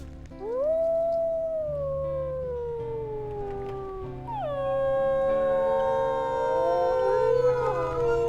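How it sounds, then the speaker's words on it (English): A wolf in the video game WolfQuest lets out a long falling howl, then a second overlapping howl rises and wavers, sustained and clear over a low background hum. "I think that was my double howl."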